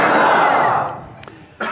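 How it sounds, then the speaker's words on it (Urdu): A crowd at a religious sermon gathering roars a slogan together in one loud, sustained shout that fades out, followed by a couple of thuds and a brief fresh burst of voices at the end. "اللہ کا نعرہ لگنا چاہیے نا"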